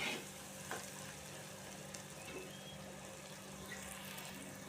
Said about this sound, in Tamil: இந்த மாதிரி எண்ணெயில் மிளகாத்தூளை போட்டு வதக்கிக்கணும்.